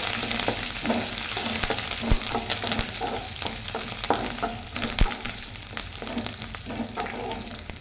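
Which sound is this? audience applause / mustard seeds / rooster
mustard seeds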